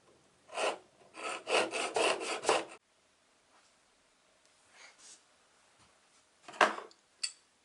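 A steel chisel rubbed back and forth on a diamond sharpening stone, a burst of rapid close rasping strokes, then quiet with a few scattered scrapes and a final short pair of rubs.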